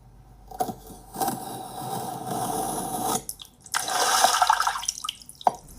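Sea water gushing from a sliced Earth model in a cutting ASMR piece: close squishy, wet slicing and liquid spurts in short bursts, a drippy splash near the end, with quiet gaps between.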